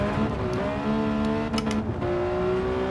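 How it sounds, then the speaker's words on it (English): Ferrari engine in Gran Turismo 7, heard from an outside view, a steady loud mechanical drone with shifting harmonic pitch and a brief rise midway, continuous throughout. "you'll definitely notice the car sounds nicer on the outside"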